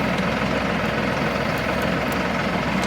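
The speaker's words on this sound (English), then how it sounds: "Tractor's running now." A Mahindra 6075 tractor's engine idles steadily nearby, a continuous low rumble with slight vibration throughout.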